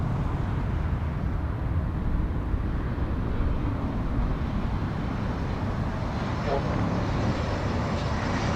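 Airbus A220 airliner, Delta 1210, arriving at LAX, a steady, fairly loud engine roar holding throughout, with voices talking underneath.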